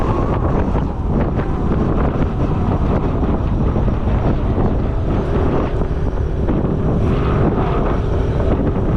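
Strong wind buffets the microphone during a road test of a vehicle, a steady loud roar of broadband rumble that fills the whole clip with no talking.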